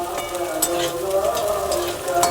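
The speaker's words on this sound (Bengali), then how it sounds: "কুঁদরিগুলোকে আমি লাল করে ভেজে নেব।" Ivy gourd pieces frying in hot oil, a loud, dense crackling sizzle throughout with bright spits and pops, close up and without speech.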